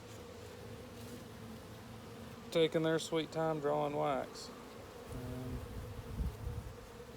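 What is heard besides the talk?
honey bees buzzing on hive comb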